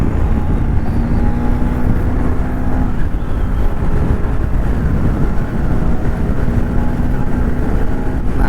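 A Bajaj Pulsar NS200 motorcycle accelerates hard along a flyover, its loud, continuous engine drone rising and holding with heavy wind rush, no voices.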